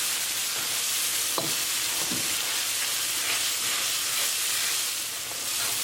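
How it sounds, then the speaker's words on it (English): Spices cooking in a tadka in a pan, a steady close sizzling hiss throughout, with a couple of brief stirring scrapes and no talking. "Mix it well and cook spices along with tadka for 1 minute."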